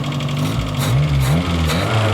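A 1300cc stock car engine idles and runs steadily at a stock car race meeting in Yarmouth, a loud close low drone with slight pitch wavering and small revs throughout, no talk over it.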